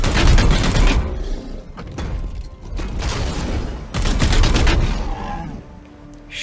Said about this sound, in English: Let's shoot this thing.